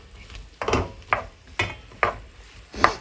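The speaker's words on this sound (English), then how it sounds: "Quick stir around. Make sure they're sweating evenly." Mushrooms sweat in a hot frying pan and get stirred, with five or six distinct scraping pushes of the utensil coming at a steady pace over a soft background sizzle.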